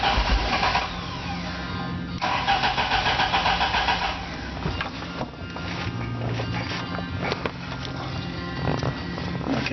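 A Fiat 1800 with performance upgrades cranks and starts, its engine catching and settling into a rough idle with occasional revs, close and fairly loud with no talking.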